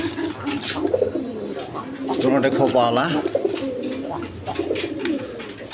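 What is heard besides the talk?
pigeons cooing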